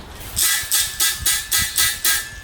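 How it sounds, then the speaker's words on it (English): Six evenly spaced buzzing strokes on a capoeira berimbau, each a bright rasping burst with a faint steady tone underneath, repeated in a steady rhythm with no voices. "The berimbau has three different sounds it can produce. The buzz sound"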